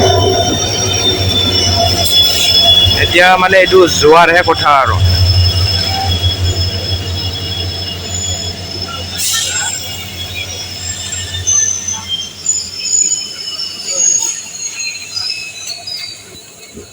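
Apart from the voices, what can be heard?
train arriving at the station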